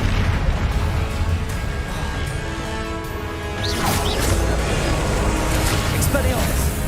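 Confringo blasting spell exploding in Hogwarts Legacy, a loud crashing burst rising out of a busy, noisy game soundscape, with smashing impacts trailing after.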